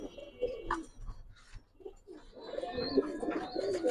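Pigeons at a fancy pigeon farm coo in soft, throaty bursts nearby, overlapping with other chirping birds and rising into a fuller chorus toward the end.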